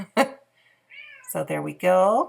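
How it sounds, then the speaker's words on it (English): A pet cat named Owen gives a few short meows, with one clear meow early and fainter ones after, heard close up in a quiet room while someone speaks briefly. "you may hear some meowing."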